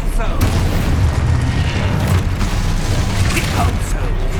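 Spell explosions from Hogwarts Legacy on PS5, with booming blasts and rumbling impacts running continuously through a loud game battle with spell shouts layered over it.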